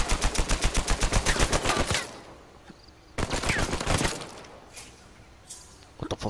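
Rapid automatic gunfire in Uncharted 4 multiplayer, a long burst of closely spaced shots, a lull, then a second burst and scattered later shots, loud and close with no talk.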